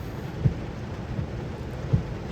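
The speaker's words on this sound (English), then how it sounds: "it's raining" Rain and thunder heard from inside a car beside a railway line: a soft, steady patter with two low, muffled thunder thumps, faint and with no one talking.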